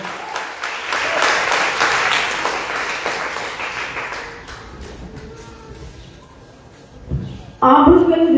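A church congregation applauding at a Christian testimony festival: dense, sustained clapping that swells and then gradually fades, with voices over it and a louder burst of sound near the end.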